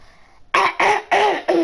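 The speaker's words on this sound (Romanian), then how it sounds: "tușesc și trag de nas" A man coughs four times in quick succession, close and fairly loud, harsh evenly spaced bursts following a brief faint moment of voice.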